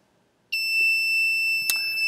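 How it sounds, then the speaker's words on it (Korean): An Arduino temperature alarm buzzer, set to trigger once the reading passes 25 degrees, starts abruptly and holds a loud, steady high-pitched electronic tone, with a brief click partway through. "이제 이렇게 식으로 지금 알람이 울리도록 제가 설정을 해놓은 거고요"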